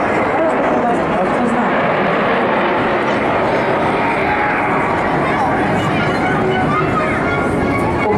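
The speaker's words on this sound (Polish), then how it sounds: "samolotu F-35" Continuous loud roar of an F-35 fighter jet passing over a military parade in Katowice, Poland, a broad steady rumble with crowd noise mixed in throughout.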